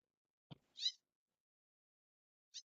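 A house cat meows twice, a sharp call followed by a softer, shorter one about two seconds later, with a low thump just before the first call and silence around them.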